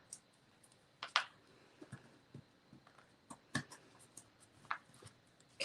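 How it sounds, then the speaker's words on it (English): Excess paper being peeled and scraped off a wooden frame by hand, with scattered crisp tearing and scratching bursts separated by short quiet gaps, close up and moderately quiet. "I'm just going to kind of peel it off."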